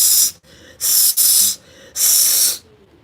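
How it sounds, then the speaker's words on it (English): Three sharp bursts of aerosol spraying hiss out from under a door from the hallway, each lasting about half a second with short gaps between, loud and close. "But me hear something spraying."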